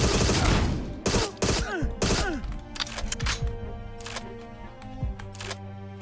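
Dual-wielded pistols firing in the Agent 64 video game: a loud, close string of rapid shots with ringing, metallic tails, thinning to scattered single shots toward the end.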